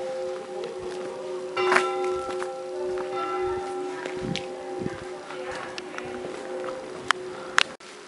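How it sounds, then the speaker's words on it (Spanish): The wishing church bell at Lake Bled, Slovenia, rings out with a bright metallic strike and a long humming decay, then further lighter strikes ring through the air with scattered footsteps nearby. "Y esta es la famosa campana"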